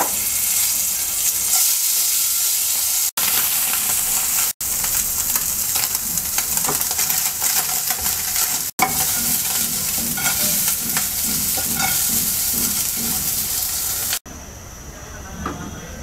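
Steady, loud frying sizzle of small puti fish in oil runs throughout, with occasional stirring scrapes and brief cuts in the sound.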